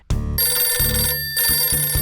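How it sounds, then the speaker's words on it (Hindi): A telephone bell in a Hindi cartoon rings loudly in repeated bursts with short gaps, close and clear, with no talking. "फोन मत उठाना"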